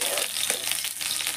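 Onion fries in a pot of dal with a dense, crackling sizzle that stays fairly loud and continuous across the short stretch, with no one speaking.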